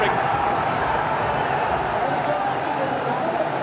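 Dense, roaring crowd noise fills a packed cricket stadium in Mirpur during the Bangladesh Premier League final, a steady loud cheer with no breaks across the whole moment.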